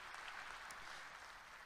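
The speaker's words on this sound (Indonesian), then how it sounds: "Kasih tepuk tangan dulu buat Tuhan kita" Church congregation clapping during a sermon, a faint, distant, even wash of many hands applauding steadily with no break.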